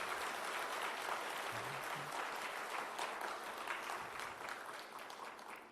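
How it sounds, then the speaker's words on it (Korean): A church congregation at a Korean worship service applauds to glorify God, a faint, distant, continuous wash of clapping that slowly tapers off toward the end. "오늘 있게 하신 하나님께 감사와 영광의 박수 돌립니다."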